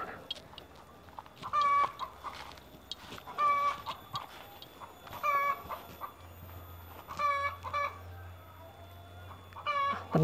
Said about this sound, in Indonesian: Ada ayam sedang berteduh.